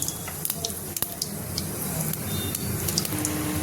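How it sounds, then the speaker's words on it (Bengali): Cumin seeds sizzling in hot oil in a pressure cooker on the stove, a steady dense crackle with scattered sharper pops and faint clinks, close and continuous throughout. "দিয়ে দিচ্ছি তেল। দিয়ে দিচ্ছি একটু জিরা ফোড়ন।"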